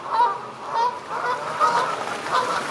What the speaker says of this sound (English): they honk, which is an objectively funny sound for an animal to make